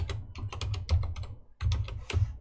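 Rapid typing of code on a computer keyboard, a close, quiet run of light key clicks with a brief pause near the end.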